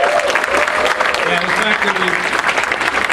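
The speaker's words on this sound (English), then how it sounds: "we should have a huge round of applause for Rick Remender" A convention panel audience claps loudly and continuously for a few seconds, with cheers mixed in, as a speaker's voice talks over the applause.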